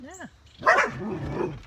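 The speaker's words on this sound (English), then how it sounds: "Apologize for the dogs." Pet dogs bark and yip close by indoors, a rising whine and then a loud burst of barking that trails into softer yelps, with a person briefly speaking over it.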